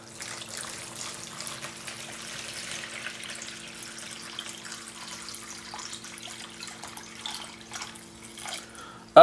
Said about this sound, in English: So we'll go ahead and we'll add the water.